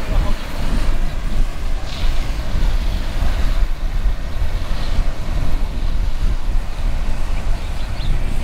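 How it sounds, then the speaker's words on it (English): Steady warm wind buffets the microphone at Manini'owali Beach, Kua Bay, Hawaii, a constant low rumble with faint surf-like wash throughout, loud and unbroken. "it's windy but the wind is warm so"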